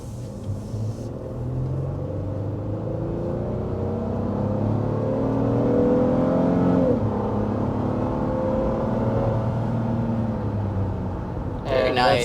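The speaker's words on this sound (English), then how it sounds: "we'll start out with a hard acceleration and see what it's like driving this Honda Pilot" Heard from inside the cabin, a 2023 Honda Pilot LX base model accelerates hard up to 60 mph, its engine rumble rising steadily and loudly before easing off near the end.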